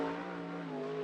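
A 360 sprint car engine on a race track at Grays Harbor during hot laps, giving a loud, steady, high-revving drone with strong harmonic whine held close and constant throughout.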